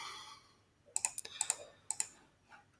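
Keyword typed on a computer keyboard in a short burst of crisp, close clicks, about eight uneven keystrokes in a quiet room, with a last lone tap trailing after a brief pause.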